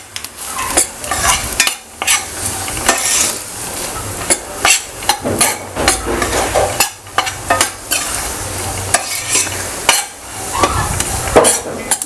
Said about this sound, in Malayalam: ഇത് നന്നായിട്ടൊന്ന് മിക്സ് ചെയ്തെടുക്കാം കരിയാതെ.